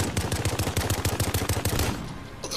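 Rapid automatic gunfire in Call of Duty Modern Warfare, a steady run of loud, evenly spaced shots lasting about two seconds before it cuts off.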